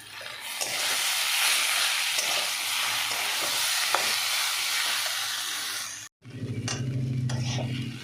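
Prawns and vegetables frying with chili powder in a pan, a loud close sizzle with stirring scrapes throughout, a brief cut of silence, then renewed frying with a lower bubbling tone.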